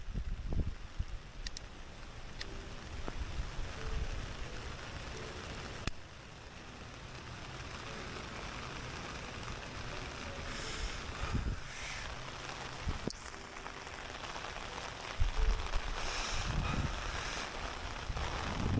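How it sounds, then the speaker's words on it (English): Heavy rain pours down outdoors as a broad, continuous hiss, buffeted by gusts of wind against the microphone, steady throughout with occasional louder swells and no talking. "Oh man, no, it is raining so hard actually."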